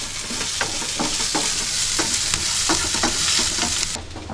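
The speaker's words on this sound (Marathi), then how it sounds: "आता त्याच्यामध्ये मोहरी टाकते थोडीशी." Mustard seeds crackle and sizzle in hot oil in a pan while cooking a potato filling for ulta vada pav, a steady loud frying hiss broken by sharp pops and stirring clicks.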